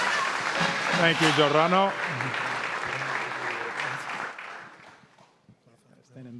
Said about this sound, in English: One round of applause, please